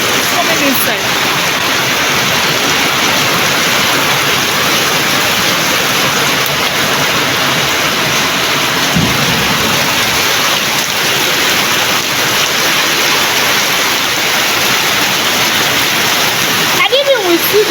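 Heavy rain pouring down steadily in an African village, a loud, dense, unbroken hiss close by that lasts throughout, with voices faintly underneath.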